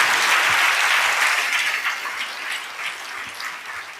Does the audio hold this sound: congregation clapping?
yes